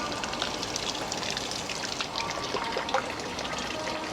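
Water pours from a ladle during purification at the Akasaka Toyokawa shrine in Japan, a close, steady trickling splash that runs without a break.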